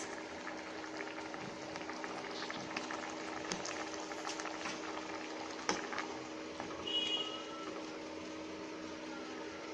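A pot of coconut potato kurma, with ground coconut, cumin and pepper stirred in, simmers at a steady boil, bubbling and popping continuously at close range with no voices.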